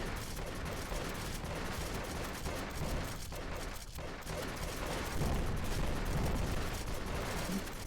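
Sustained machine gun fire in the Kick Ass Commandos video game, a dense continuous fusillade of rapid shots with explosive rumble underneath, loud and unbroken for several seconds.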